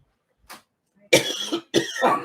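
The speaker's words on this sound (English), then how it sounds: "Got myself all excited. I'm all coughing and stuff." A small breath comes first, then two harsh, close coughs follow one another quickly, with no talking.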